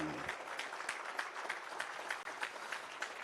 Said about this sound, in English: Let's keep clapping.